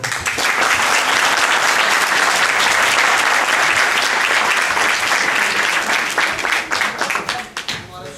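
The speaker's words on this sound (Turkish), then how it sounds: "Öncelikle buradaki sporcu arkadaşlarımızı, futbol takımı arkadaşlarımızı bir alkışlayalım." An audience applauds the football team's players at a formal address: loud, dense clapping that holds steady for several seconds, then thins and tapers off toward the end.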